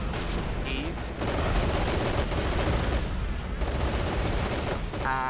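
Machine gun fire in the Men of War Assault Squad 2 war game crackles in dense, continuous bursts over heavy rumbling battle noise, loud and sustained throughout.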